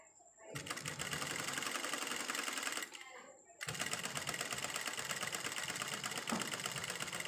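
A sewing machine runs fast, re-stitching the crotch seam of a pair of trousers to strengthen it. Its dense, even whirring is close and loud, with one brief pause before it starts again.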